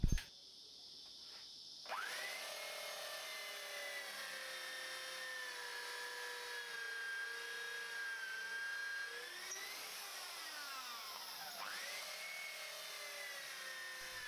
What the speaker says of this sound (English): you will need to drill with a 9mm diameter drill bit